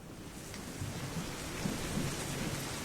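Steady heavy rain pours throughout, with low rumbles of thunder swelling in the background, no voices present.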